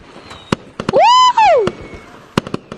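Fireworks in the video game Gorilla Tag: sharp pops and bangs scattered around a loud rising-and-falling whistle of a launching rocket, close and punchy.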